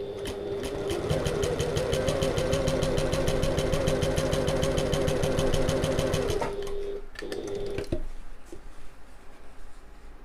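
A sewing machine runs fast and steadily, top stitching a two-tone strap seam with a rapid even needle rhythm for about six seconds. It then stops, leaving a few clicks and light handling sounds.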